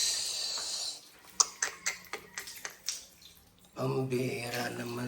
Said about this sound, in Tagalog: bakit nag-aapaw itong tubig?